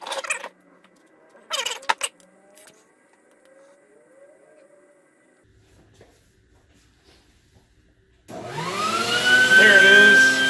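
A large dental burr grinds support struts off a 3D-printed nightguard, arriving as a loud, sustained whining drone near the end after mostly quiet handling with a few brief clatters.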